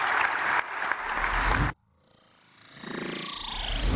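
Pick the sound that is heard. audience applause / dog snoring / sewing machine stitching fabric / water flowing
audience applause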